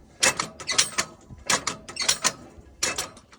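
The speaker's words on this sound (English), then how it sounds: "that's this mechanism here to lift up and down" Lift mechanism on a Morand cattle squeeze chute, built of thin welded steel, moving up and down: irregular bursts of close metallic clanking and rattling, with short pauses between the clusters.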